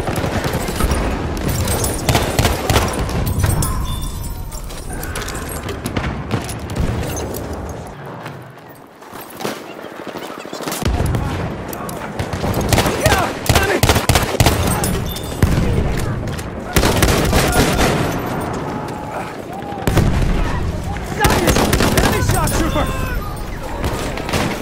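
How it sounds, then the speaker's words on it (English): Enemy machine gun fire rattles through a Battlefield 1 battle, dense sustained bursts and booming explosions overlapping almost continuously, loud and close, with a brief lull midway and voices shouting amid the din. "Machine gun! One of theirs!"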